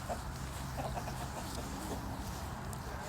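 A plump, shiny rooster clucks steadily and close among other farm birds, with a constant low rumble of background noise throughout.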